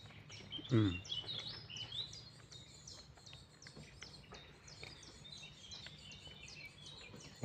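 Birds sing outdoors with repeated high chirps and short trills scattered throughout, fairly faint and distant over a quiet background, with one louder nearby bump near the start.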